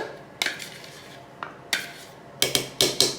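Dough lined with cling wrap is turned over into a bowl, giving a few sharp knocks and clatters against the bowl, first spaced apart and then bunched into quick bursts near the end, with no talking.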